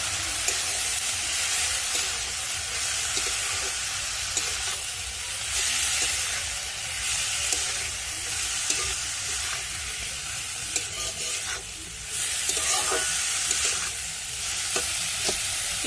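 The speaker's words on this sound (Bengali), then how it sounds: "এবার সব একসঙ্গে ভালো মতো আমি ভেজে নেব" Spinach with fried potato and eggplant, salted and sprinkled with turmeric, sizzles loudly in a pan, a dense steady hiss with intermittent scraping as the mixture is stirred, close and continuous with no talking.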